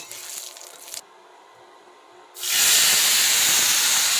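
Curry leaves and dried red chilies hit hot oil in a pan while making Kerala puttu, bursting into a loud, steady hiss and crackle that starts partway through after a brief quieter moment.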